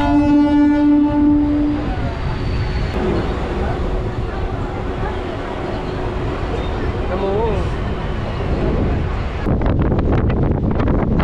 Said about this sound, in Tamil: ட்ரெயின் ஸ்பீடு பார்த்தீங்கன்னா உண்மையிலேயே செம ஸ்பீடாக இருந்ததுங்க